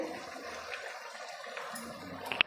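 Ground dry-roasted masala is stirred into boiling liquid for a boti curry, giving a continuous bubbling, watery gurgle with a couple of small clinks near the end.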